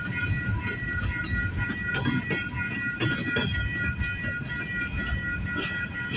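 A CP freight train rolls past on the rails near Agincourt in Toronto, a loud continuous rumble with clacking wheels and faint high wheel squeal, steady and close for the whole stretch.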